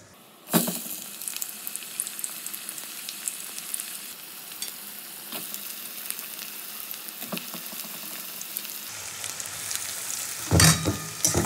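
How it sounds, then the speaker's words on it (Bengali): Chopped onion frying in hot oil for a home-style chicken biryani, a steady broadband sizzle filling the whole span with a few stirring clicks and a brief louder crackle near the end, no voices. "পেঁয়াজ কুচিটা আগে খুব ভালো করে তেলের সঙ্গে ভেজে নেবো।"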